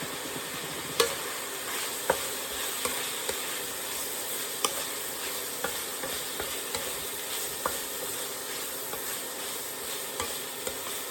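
Onions fry for chilli con carne in a camping pan, a steady sizzle running throughout while a utensil stirs and scrapes, giving periodic sharp knocks against the pan, with no talking.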